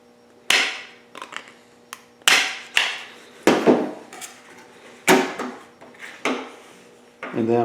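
Metal patch panel for a rusted car door being trimmed in a workshop, a series of sharp metallic snips and clanks in uneven bursts with short pauses between cuts, close and alone.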